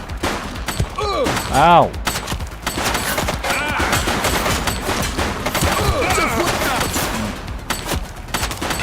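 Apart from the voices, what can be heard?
gunfire in video game The Precinct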